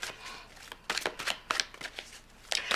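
Tarot cards shuffled and drawn during a Pisces love reading, a run of crisp papery riffles and slaps in uneven bursts, close and clear, with no talking.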